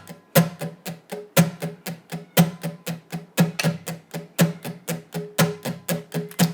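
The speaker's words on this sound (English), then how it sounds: "The strumming pattern goes like this." Acoustic guitar strumming the rhythm pattern for a song, steady evenly spaced strokes with accented downbeats repeating over several bars, close and clear with no talking.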